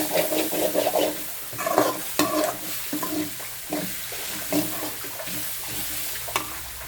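Grated coconut being stirred and fried in a pan, with crackling sizzle and repeated bursts of spatula scraping, louder in the first seconds and then settling, close by with no talk.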